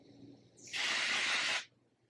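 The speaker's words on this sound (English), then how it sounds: "It says that you're supposed to spray it about 6 inches away from the area where you want to conceal your grays" A hair color concealer spray for covering grays fires one steady hiss of about a second from an aerosol can, loud and close, starting abruptly and cutting off cleanly against a quiet room.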